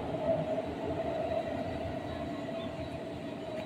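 An MRT train passing in the city, a steady low rumble with a faint whine on top, moderately distant and continuous, with no talking.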